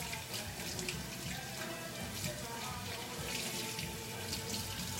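Cold tap water runs steadily into a sink while a pork tenderloin is rinsed under it, a close, even hiss and splash with no pauses.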